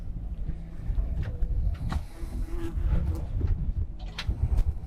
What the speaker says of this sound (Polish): Gaba daje czadu na skuterze